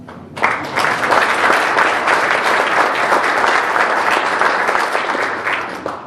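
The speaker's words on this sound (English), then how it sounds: "so really give her another applause." Sustained applause from a conference audience at a business meeting, dense steady clapping that starts abruptly and carries on evenly for several seconds, fairly loud and close, with no talk over it.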